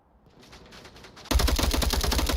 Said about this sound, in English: now they're catching some suppressive fire